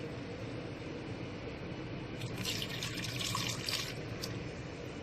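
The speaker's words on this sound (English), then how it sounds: "And I'm going to add more normal tap water inside." Tap water runs steadily from a faucet into a bowl holding eggs in salted water, a continuous close splashing hiss that swells briefly in the middle, with no talking.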